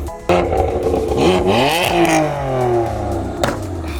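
A car engine with a flame-shooting exhaust tune revs loudly close by, pitch climbing and falling in throaty sweeps, with a sharp bang near the start and another crack later.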